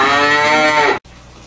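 A person imitates a cow with a loud, drawn-out moo that lasts about a second and then cuts off sharply.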